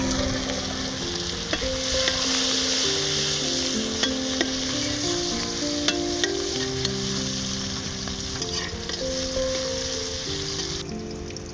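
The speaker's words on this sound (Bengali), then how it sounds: "মাছ ভাজার তেলে পেঁয়াজগুলো দিয়ে ভালোভাবে ভেজে নিই" Onions sizzle steadily in the oil left over from frying koi fish, a close, continuous crackling hiss with light stirring over soft background music.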